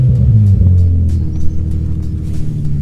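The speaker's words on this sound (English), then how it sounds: "Nice smooth startup." An Infiniti G35 engine starting and settling into a smooth idle, a strong low rumble that steadies after the first moments, close up with a few faint clicks on top.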